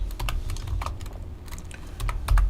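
Close, crisp taps on a computer keyboard entering a MySQL database command, irregular clusters of keystrokes over a steady low hum, with no speech.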